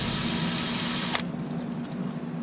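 A drill fitted with a number 40 bit bores through an aircraft sheet-metal nut plate used as a guide, a loud steady whine that cuts off abruptly partway, leaving quiet room tone.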